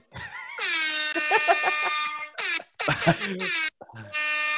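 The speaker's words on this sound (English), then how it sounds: "if I can get an air horn app" A loud, blaring air horn from a phone app sounds in several long blasts with brief gaps between them, harsh and buzzy, close and dominant.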